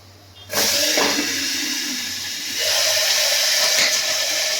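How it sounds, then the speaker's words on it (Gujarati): Tempering for a drumstick and potato curry hitting hot oil, an abrupt loud whoosh of hissing sizzle that holds steady and swells again toward the end, heard alone and close. "જો મમ્મી વઘાર કરે છે સરગવા બટેટા શાકનો"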